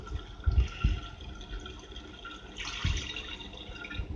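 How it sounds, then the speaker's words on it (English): Methanol being poured onto boric acid in a container, a quiet liquid trickle and splashing fill with a few soft low sloshes near the start and again toward the end. "Now I'm adding 300 milliliters of methanol."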